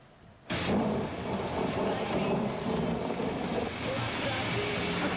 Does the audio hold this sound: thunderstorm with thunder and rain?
yes